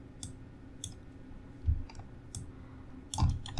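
Computer mouse clicking while working in Maya, several crisp isolated clicks spaced irregularly, close and fairly quiet over a low hum, with a couple of soft thumps.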